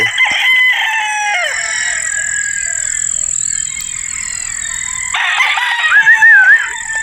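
A gamefowl broodstag crows loudly and close, its long drawn-out call repeating and fading off near the end, with clucking and other farmyard birds around it and no talk.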